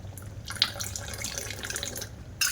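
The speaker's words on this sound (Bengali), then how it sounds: "আমি ওর মধ্যে গোলা জলটা দিয়ে দেবো" Thin cornflour-and-water slurry poured into mango pulp, a soft, continuous trickling and splashing stream close by, steady and fairly quiet, with a brief sharper splash near the start.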